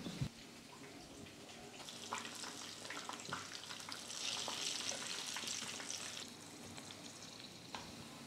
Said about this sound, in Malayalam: എണ്ണയിൽ ഇങ്ങോട്ട് പൊരിച്ചെടുക്കാം